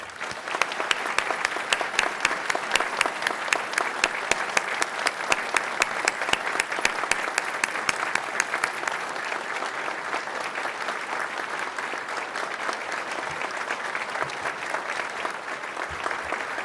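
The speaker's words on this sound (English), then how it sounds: "Let's applaud in their honor for 1 minute." A large crowd at a gathering of Iranian communities in California applauds steadily in honor of victims, a loud, continuous roar of many hands that thins slightly toward the end.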